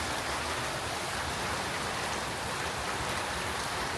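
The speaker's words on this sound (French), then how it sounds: "Éclair sur éclair, il y a une pluie de fou." Heavy rain pours steadily through a thunderstorm at night, a dense, even hiss of downpour filling the whole stretch with no voices or thunder claps standing out.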